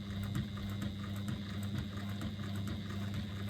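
A sewing machine runs steadily while stitching a curved seam, its motor giving a close, continuous whirring hum with a faint rhythmic pulse of the needle and no pauses.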